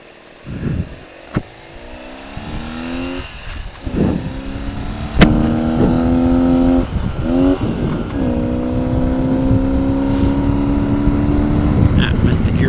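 Vintage BMW R80/7 motorcycle ridden along a winding mountain road: the engine revs up and drops repeatedly through downshifts and upshifts, loud and close, with steady wind rush throughout.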